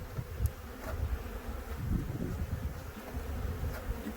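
Honey bees buzzing in a dense, continuous hum during a nuc transfer, a swarm-like drone with individual bees zipping past the microphone now and then, with no talking.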